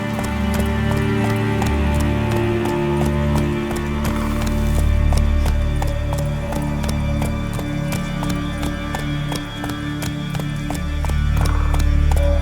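Roach, a horse in The Witcher 3, gallops in a fast, loud, steady clip-clop of hooves with a whinny, under game music.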